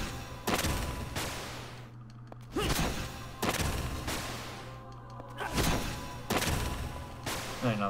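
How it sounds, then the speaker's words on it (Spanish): Breakable crates get smashed one after another in Vagrant Story, four sharp, loud crunching impacts spaced a second or two apart over a low ambient hum. "estas son cajas rompibles. Las voy a romper por si acaso."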